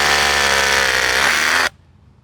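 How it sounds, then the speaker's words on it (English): A power drill with a masonry bit grinds into concrete at a playground build, a loud steady whining drone close by that stops abruptly, followed by near silence. "when you are drilling into concrete with a masonry bit"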